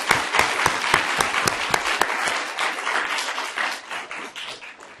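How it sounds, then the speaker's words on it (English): An audience at a moot court competition final round bursts into applause, with many sharp claps that are strongest at first and then gradually thin out and fade. "So a round of applause for our special guests"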